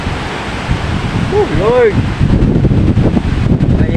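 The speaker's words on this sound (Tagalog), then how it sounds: "Sumisipol yung hangin" Strong winds of Typhoon Uwan roar steadily in Rizal, with a rising, whistling wail sweeping through the gusts for a moment; a voice exclaims briefly over the howl.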